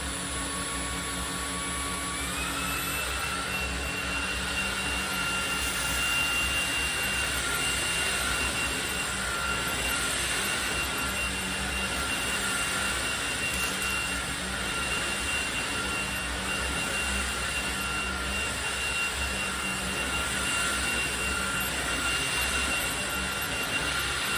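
A loud, steady high-pitched whine of an LG A9 Cordzero (A905) cordless stick vacuum in turbo mode, rising slightly in pitch early on and then holding constant.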